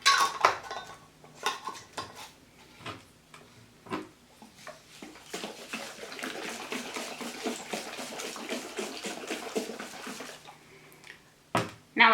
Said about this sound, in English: Now we're going to put our lid on tightly and then shake up the jar.